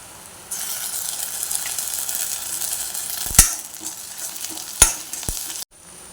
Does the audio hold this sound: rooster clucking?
no